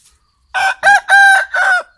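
A rooster weighing about 2.4 kilograms crows nearby in a loud, clear burst of several stretched syllables, with no voices over it.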